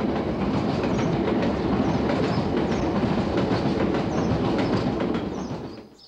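A train runs on rails with a dense, continuous rumble and clatter of wheels, steady and close, fading slightly at the very end.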